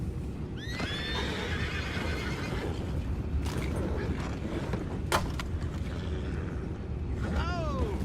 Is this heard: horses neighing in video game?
yes